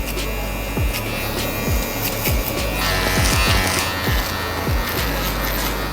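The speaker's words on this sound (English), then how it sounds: "I'm gonna gently just nicely go down with my shaver again." An electric shaver with adjustable power buzzes steadily while trimming hair during a self-cut burst fade, with repeated short strokes and clicks of the clippers against the head, close and continuous.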